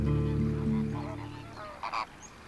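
Flamingos honking, a run of loud nasal calls close by followed by a few shorter, fainter honks with a quieter gap between.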